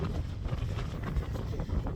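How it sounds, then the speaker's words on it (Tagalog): Strong, cold wind blusters against the microphone on an outdoor walk, a steady low rumble with gusty swells, close and fairly quiet, no talking. "Grabe ka sakit sa kamot tugnaw kay hangin guys. Ang hangin murag ice."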